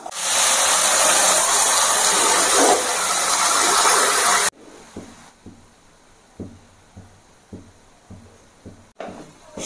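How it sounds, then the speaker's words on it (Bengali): Hot milk poured into vermicelli fried in ghee, a loud broadband sizzle and hiss that fills the first half, then cuts off to quieter intermittent bubbling and clinks in a kitchen. "এবার দিয়ে দেবো এর মধ্যে গরম দুধ।"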